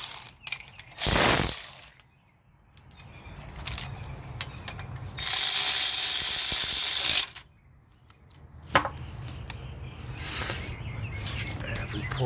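A ratchet tightens a head bolt on a 2007 GXP, giving bursts of rapid clicking that start and stop several times, close and clear, with short pauses and faint handling noise between strokes.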